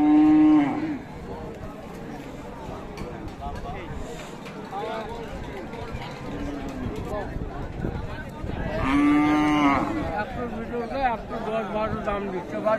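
A Sahiwal heifer with her calf at the Raniganj cattle market in Dinajpur gives two loud, close moos, one at the start and another later, amid continuous talk and market chatter.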